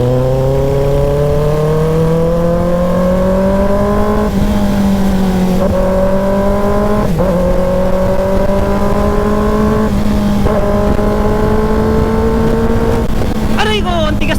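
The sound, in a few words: motorcycle engine while riding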